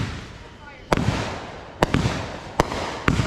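Fourth of July fireworks go off outdoors as four sharp, loud bangs spaced under a second apart, each followed by crackling and a rumbling tail over steady background noise.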